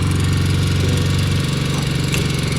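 A petrol generator engine runs steadily and loud up close on a snowy day, with a constant rumbling drone and a slight shift in its throb partway through.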